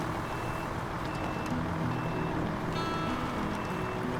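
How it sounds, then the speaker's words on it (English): An HX520 truck in the SnowRunner video game reverses, its backup beeper chirping in a steady repeating rhythm over a low, constant engine rumble. "It's a beautiful purr though, this truck. Even in reverse."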